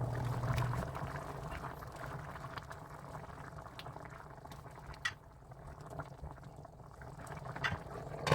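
Chicken curry simmers in a covered pot, a soft, continuous bubbling and gentle liquid churning at low volume, with a faint occasional knock near the end.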